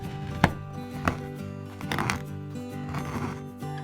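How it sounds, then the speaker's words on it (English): A knife chops 120 grams of hard dark chocolate into smaller chunks, with a few distinct cutting thuds spaced apart over soft background music, close and quiet. "Cut 120 gram chocolate. If too hard, you can cut it into smaller chunks."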